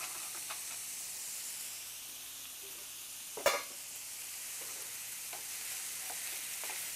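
Unsalted, dry roasted, shelled pistachio nuts toasting in a pan, a faint continuous sizzle and hiss with light stirring scrapes and one sharp knock midway.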